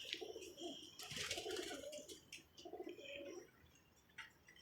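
Two pigeons kept in a coop give low, soft, rolling coos in a few short bursts, close by and quiet, with faint higher rustles and chirps between them.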